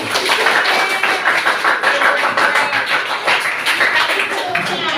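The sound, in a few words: clapping hands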